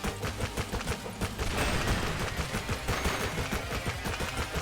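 Rapid gunfire from the player's weapon in the shooter Hypergun, a dense, loud stream of shots with a steady fast rhythm and no talk.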